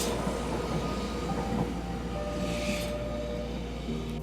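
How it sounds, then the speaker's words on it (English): A tram passes on the street outdoors, a moderate, steady rolling rumble with a faint squeal and a brief hiss midway, heard from the roadside without any talking. "There's literally a tram coming now"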